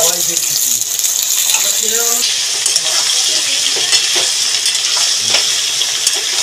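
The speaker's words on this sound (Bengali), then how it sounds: "আগে থেকে এঁচড় সিদ্ধ করে রেখেছিলাম নুন হলুদ দিয়ে, সেটাকে একটুখানি নেড়ে ছেড়ে ভেজে নেব।" Boiled jackfruit, seasoned with salt and turmeric, sizzles loudly in hot oil with fried potatoes. A steady crackling hiss runs throughout, broken by a few stirring knocks.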